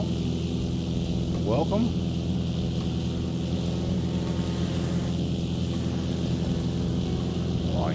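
A small aircraft drones steadily overhead through the whole stretch, a constant engine hum beneath a brief spoken greeting.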